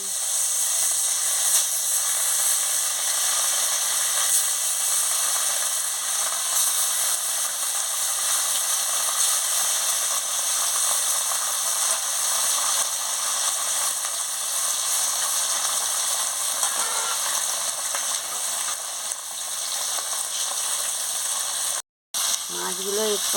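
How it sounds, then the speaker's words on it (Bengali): Rohu fish pieces laid into hot oil in a kadai, giving a steady, loud broadband sizzle that holds evenly throughout with faint crackles, briefly cutting out near the end. "তেলটা গরম হয়ে গেছে, মাছগুলো ছেড়ে দিচ্ছি।"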